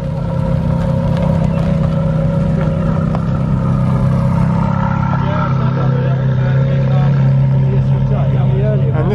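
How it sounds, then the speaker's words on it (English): A Ferrari 430 Spider drives off from a supercar weekend at Beaulieu, its engine revving in a steady, loud, sustained drone with rising pitch sweeps, heard up close over crowd noise and background talk. "More cars leaving, 430 Spider."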